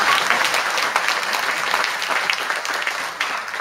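Steady, dense applause from an audience at a policy forum in the National Assembly on improving the fire service, a loud crowd clapping continuously for several seconds with no break.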